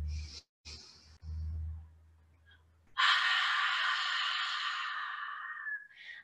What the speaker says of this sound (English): when you exhale, I want you to breathe out like you're fogging up a mirror